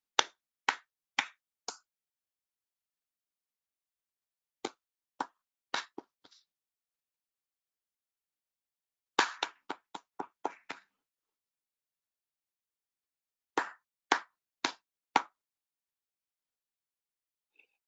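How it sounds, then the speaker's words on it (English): Crisp hand claps in four-beat groups, alternating a leader's pattern with echoed repeats, sharp and isolated against near silence, with a few softer scattered claps between groups. "I'm going to clap four beats, and then you echo them with me."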